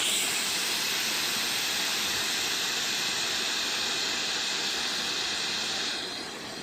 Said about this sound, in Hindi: प्रेशर की भाप सारी निकाल दें